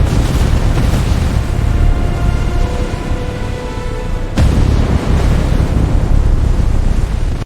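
Coastal artillery of British defenses opens fire against an invading fleet in 1940, a single heavy boom punching through a steady roar of surf and wind about halfway through.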